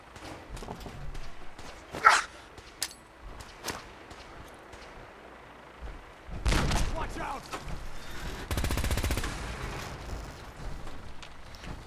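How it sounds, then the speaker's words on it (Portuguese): A fragmentation grenade in the video game Fallout 4 detonates in a loud, broad blast, preceded by scattered thuds and sharp in-game sounds, with a rumbling tail afterward. "eu vou usar uma outra coisa aqui chamada granada de fragmentação"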